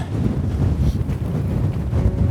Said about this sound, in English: Maybe the fact it's so windy as well